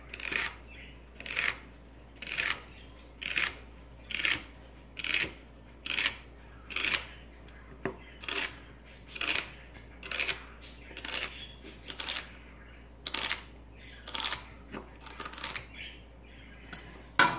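Vegetables chopped into pieces on a cutting board, with about seventeen crisp knife strokes in a steady, even rhythm roughly once per second, close and clear with no talking over them.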